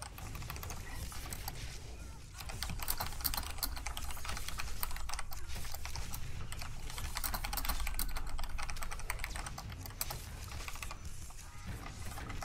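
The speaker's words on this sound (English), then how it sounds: "Sorry, I was typing there." Typing on a computer keyboard during a Star Wars: The Old Republic PvP livestream, a dense, continuous clatter of rapid keystrokes close to the microphone, with only brief pauses.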